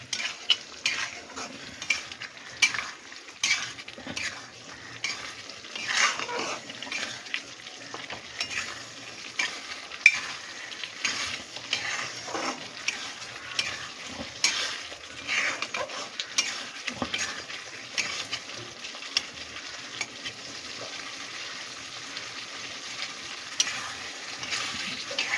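Fish curry of desi or batashi tangra being stirred in a pan after hot water goes in, a steady simmering sizzle under repeated scraping and clinking of a spoon against the pot, moderately close, with no talk.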